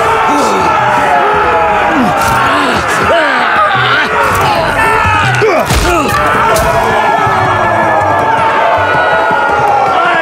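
Arena crowd in a Game of Thrones Telltale video game roaring and cheering loudly and continuously, with thuds and shouted cries mixed into the dense din.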